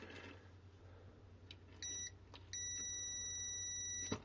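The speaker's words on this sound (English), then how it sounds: "Continuity mode, red cable." A multimeter in continuity mode on a dead 36V 21Ah Reention Dorado e-bike battery: one short high beep, then a longer steady beep lasting over a second, quiet and close over a low background hum.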